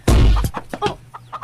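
Chickens clucking close by in a rural Filipino radio drama setting, several short bursts of clucks in quick succession with a loud opening burst.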